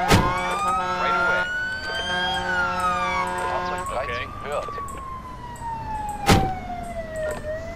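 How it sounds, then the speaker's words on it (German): An electronic siren from the Emergency 4 video game, modded with Portuguese volunteer firefighters (BV Lisbonenses), wails up and down in long sweeping tones, loud and close, with brief clicks and other effects mixed in. "Wobei ich die Sirene ja richtig feier."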